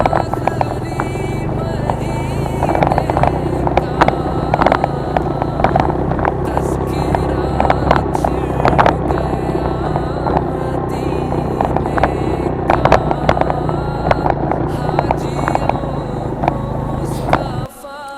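A motorcycle rides steadily after being push-started by children on a mountain road in Neelum Valley, Azad Kashmir, its engine droning continuously and close with wind buffeting and occasional rattles, no talk.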